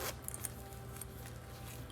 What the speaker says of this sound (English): You do have a zippered pocket with this very ornate braided leather zipper pull. Open that up.